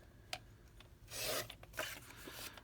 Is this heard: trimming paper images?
yes